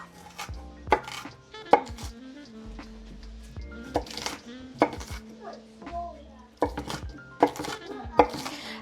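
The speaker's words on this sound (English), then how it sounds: "I have me a lovely Vidalia onion, but you could use any onion of your choice." A knife chopping a Vidalia onion on a board, sharp irregular knocks arriving in short bursts with pauses between, close and clear, with a voice talking softly underneath.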